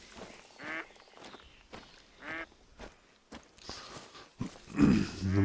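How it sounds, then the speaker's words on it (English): Ducks quack and flap in a hunting video game, a few loud calls rising near the end against quiet ambient wilderness sound after a shot has startled them. "Yep, there go the ducks. We spooked them."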